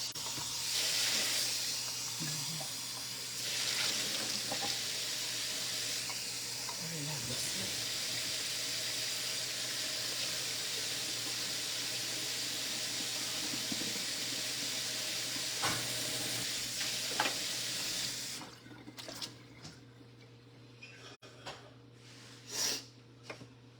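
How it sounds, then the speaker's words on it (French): Water runs steadily into a sink while dishes are washed in a home kitchen after supper, a constant hissing stream that stops near the end, followed by a few faint clinks. "Attends, je vais mettre la vaisselle."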